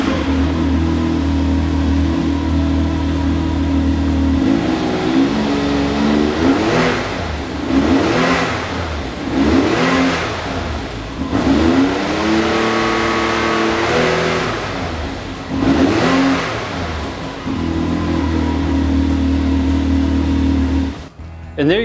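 A Can-Am Maverick side-by-side fitted with an S&S Power Tune XTO muffler idles close by, then revs repeatedly in a series of sharp rising blips before dropping back to a steady idle and cutting off.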